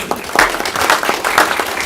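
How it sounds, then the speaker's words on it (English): Applause from an audience at a live-streamed community event in Villa Rica, heard as a short, fairly faint round of steady clapping from a modest crowd. "Give her a round of applause."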